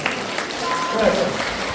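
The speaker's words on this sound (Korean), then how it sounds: "아멘 박수로" A congregation at a healing service applauds together, a steady mass of clapping heard with voices speaking over it and a faint tonal sound in the background.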